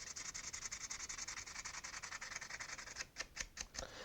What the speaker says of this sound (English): I go to a higher grit sandpaper. And again, I will sand the whole thing.